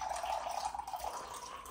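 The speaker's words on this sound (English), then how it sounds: "pour water, pouring water" Water poured in a steady, gentle trickle, moderately faint and close, with a bright splashing stream running the whole time and no voices.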